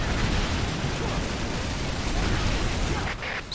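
Airstrike explosions in the game EDF 4.1 merge into a dense, steady roaring rumble that fills the whole stretch, loud and unbroken, with a slight drop near the end.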